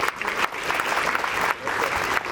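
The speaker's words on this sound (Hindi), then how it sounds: "ताली बजाओ।" An audience at a girls' school ceremony claps steadily for schoolgirls called up by name, a dense, even applause that swells and dips briefly before continuing strong throughout.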